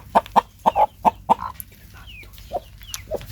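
Backyard hens at a garden compost heap cluck loudly and close by in a quick run of short, sharp calls, then a few softer, scattered clucks with faint bird chirps in the background.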